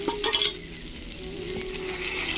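Spice paste sautéing in hot oil in a pan for a Bengali doi potol curry, a soft continuous sizzle with a few scraping stirs near the start.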